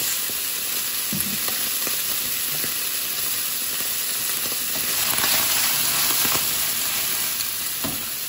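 Food sizzles steadily as it browns in a frying pan, a continuous hiss of hot oil with occasional louder pops and stirring scrapes, close and even throughout.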